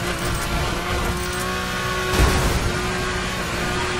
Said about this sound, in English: this car is loud all of a sudden